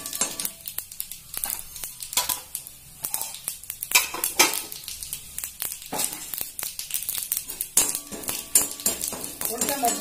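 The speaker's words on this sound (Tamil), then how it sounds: "கடாயில் எண்ணெயை ஊற்றிட்டு கடுகை போட்டுக்கணும்" Mustard seeds and a dried chili tempering in hot oil in a kadai for cabbage poriyal, with close crackling and spattering pops, faint sizzle and occasional clinks of a utensil against the pan.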